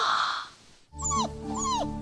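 A dog whimpers in two drawn-out, rising and falling whines after a brief quiet gap, close and fairly loud over a low steady background hum.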